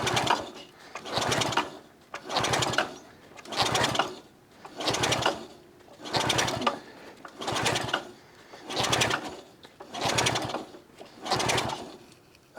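A Velo Vap front-wheel-drive French moped engine is cranked over in a steady rhythm of nine or so loud, even pulses, each about a second long, without catching and running.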